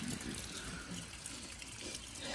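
Runoff pours steadily off a roof edge into a crawl space beneath a house, a loud, continuous close gush with no pauses and no speech.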